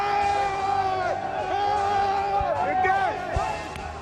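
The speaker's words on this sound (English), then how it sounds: "Fireworks burst over crowds in Cairo's Tahrir Square, where men and women danced, shouting, "God is great and long live Egypt."" A dense crowd in Cairo's Tahrir Square cheers and shouts together, with many overlapping raised voices and whoops forming a loud, continuous roar.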